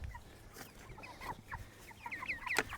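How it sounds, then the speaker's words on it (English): Chickens raised as meat birds on fresh grass cluck and chirp softly in a short, irregular run of calls, close by and fairly quiet over low outdoor background noise. "should we see if the chickens will follow us?"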